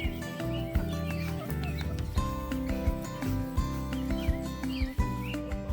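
Farm chickens cluck and call near a run and nesting box, with repeated short clucks and squawks over a busy layered background of other animals and rustling.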